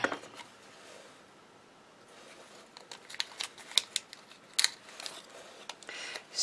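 Scissors snip in a quiet room in short, crisp bursts, the cuts growing more frequent toward the end, with faint handling rustles between them.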